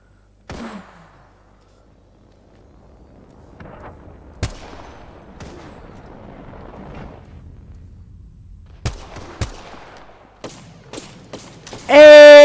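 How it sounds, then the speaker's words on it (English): Apex Legends gunfire arrives as scattered sharp cracks, a lone shot early then a cluster of quick reports later, some fairly distant, ending in a loud burst; a faint voice murmurs in between. "Hey, I'm getting shot at."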